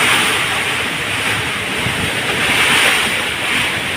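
Strong typhoon wind during Typhoon Opong, a loud continuous roar and rush of gusting air buffeting the microphone, broad and unbroken with no voices.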